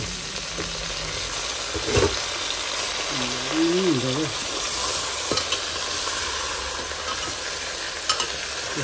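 Pig trotters fry in a pan while being stirred, a continuous sizzle and crackle with scraping strokes of the spoon, and a voice sounds briefly in the background.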